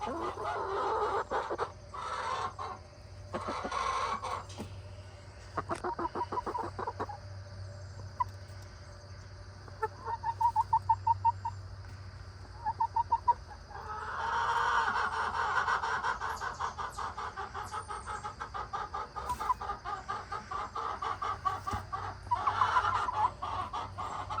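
A laying hen squawks and clucks repeatedly in loud, rhythmic bursts, with a rooster-like call among them, close by and going on through most of the stretch with brief pauses.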